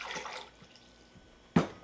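Water splashes briefly into a Boston shaker as a bartender builds a drink, followed by a moment of quiet and then a sharp clunk near the end.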